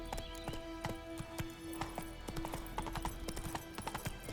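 Geralt's horse Roach trots in The Witcher 3: Wild Hunt, its hooves clip-clopping in a steady, fairly close rhythm with a brief whinny-like tone over a low ambient game background.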